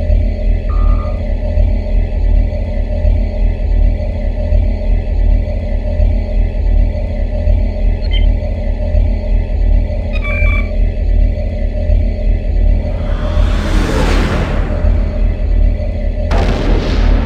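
Phasers and photon torpedoes fire in the Star Trek Starfleet Academy game over a loud, constant low starship rumble, with a few short electronic zaps and two brighter bursting blasts near the end.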